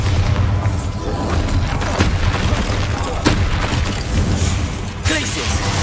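Loud, dense game explosion from a Bombarda spell in Hogwarts Legacy on PS5, with sharp blasts near 2, 3.3 and 5 seconds over continuous rumbling battle noise.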